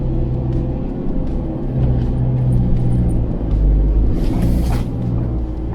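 Isuzu MU-X 4x4 engine climbing an offroad slope at around 1800 rpm, a steady low drone and rumble that swells briefly mid-clip, heard from inside the vehicle.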